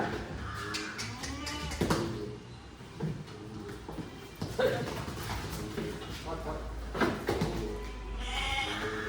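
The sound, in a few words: goat kids bleating while being unloaded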